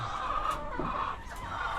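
Chickens clucking inside a backyard coop, a steady close murmur of low hen calls with a constant background hum throughout.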